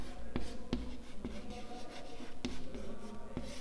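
Chalk or marker strokes on a board during a physics lesson, a series of short tapping scratches at irregular intervals, close and clear under low room noise and faint speech.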